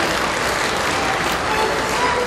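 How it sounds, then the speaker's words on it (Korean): A crowd at an inauguration ceremony for a federation president gives loud, dense, continuous applause, a sustained wash of many hands clapping at once. "박수 축하해 주시기 바랍니다."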